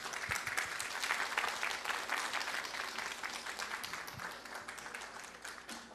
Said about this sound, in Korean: 여러분 수상자분들께 다시 한번 뜨거운 박수 보내주시기 바랍니다.